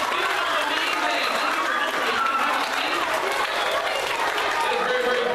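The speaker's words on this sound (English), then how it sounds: "Everybody give him a very big round of applause" An audience at a middle school show gives a big round of applause, sustained dense clapping that stays loud and steady from start to finish with crowd noise mixed in.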